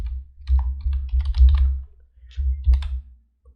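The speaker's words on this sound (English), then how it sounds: "Type the broker name over here." Typing on a computer keyboard, soft irregular key clicks in two short bursts with a pause between, close and fairly quiet over a low background hum.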